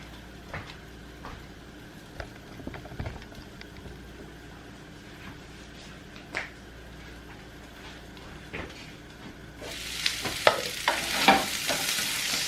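Onions cook in a frying pan for an omelette, giving a low steady sizzle with occasional utensil scrapes and stirring knocks, which turn into a louder, brighter frying hiss toward the end.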